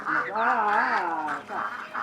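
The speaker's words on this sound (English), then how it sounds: "We've got this particular one, the most common breed, which are Muscovy ducks." Muscovy ducks at a farm raising ducks fed on red worms, giving close, continuous harmonic calls that rise and fall over about two seconds, with a brief dip before another burst; voices may be mixed in.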